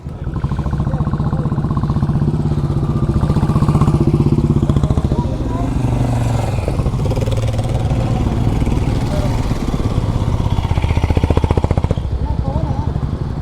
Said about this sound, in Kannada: ಇನ್ನೂ ಬಾಯ್ಸ್ ಬರ್ತಾ ಇದ್ದಾರೆ ಒಂದು ಬ್ಯಾಚು ಒಂದು ಐದಾರು ಗಾಡಿ ಬರಬೇಕು